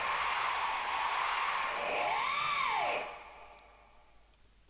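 A noise sample from Deep Purple that The Prodigy used in Full Throttle: a hissing, whooshing wash of noise with a rising and falling sweep, fading to a quieter hiss after about three seconds.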